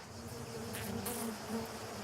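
Bees buzzing around flower heads, a steady close insect drone with slight swells in pitch and loudness, alone without talk.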